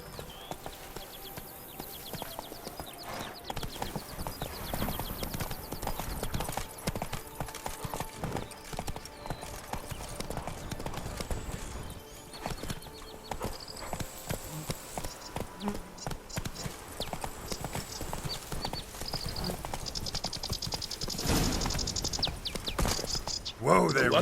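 Horse hooves clip-clop steadily in The Witcher 3 video game, a continuous trotting rhythm layered with ambient game sounds and occasional speech throughout.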